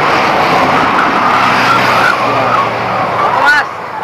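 A Bugis pitu-pitu noisemaker on a kite, built in an airplane shape, drones steadily in flight with a sustained tonal hum and rising whine, loud and continuous against wind, with voices talking nearby.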